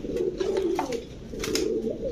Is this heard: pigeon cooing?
yes